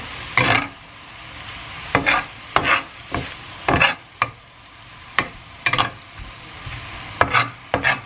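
Bubbling cream sauce stirred in a large pan, a slow series of distinct spoon scrapes and swishes, each stroke close and clear over a low simmering hiss.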